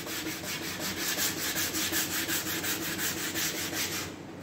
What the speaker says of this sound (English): So 320, and this is the hard block, and this is our first sanding.